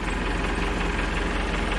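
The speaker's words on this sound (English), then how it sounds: "The tractor engine turns the PTO" A tractor engine runs steadily at a close, even idle, powering a pump through its PTO for a gated pipe irrigation system, with a low rhythmic throb and no talk.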